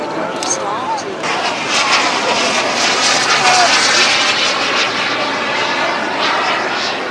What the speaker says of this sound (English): I can now hear the jets rolling up, multiple rolls down the strip.